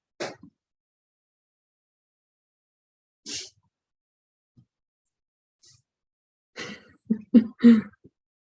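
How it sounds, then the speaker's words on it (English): Isolated coughs and throat clearing sound at a distance from a kitchen in another room, a single one, a pause, then a quick cluster of several, with quiet between. "I can hear her coughing and sneezing"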